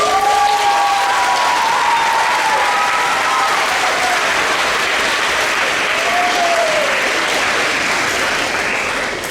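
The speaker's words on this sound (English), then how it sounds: "And students, we should give your parents and your family a huge round of applause." Sustained, loud applause from a middle school band concert audience honoring students' parents and families, steady broadband clapping filling the hall with a few faint vocal whoops rising above it.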